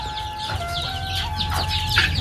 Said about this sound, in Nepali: यहाँ चाहिँ हाम्रो सब कुखुराहरू हो साथीहरू